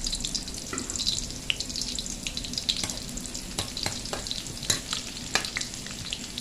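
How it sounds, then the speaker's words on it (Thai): Shallots fry in boiling oil for a northern Thai pork larb, a close, steady crackling sizzle with scattered sharp pops and occasional stirring clicks. "น้ำมันเดือดแล้วเราใส่หอมแดงลงไปเลยค"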